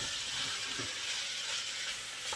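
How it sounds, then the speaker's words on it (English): Floured beef tips sizzle in a hot pan, a steady crackling hiss that stays moderately quiet and even throughout, with no talking. "this is going to sizzle because it just did on me a minute ago"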